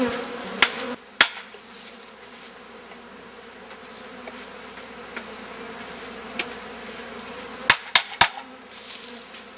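Honeybees buzz in a continuous, fairly faint drone during a hive inspection, punctuated by a few sharp clicks and knocks from handling the frames, with no talk.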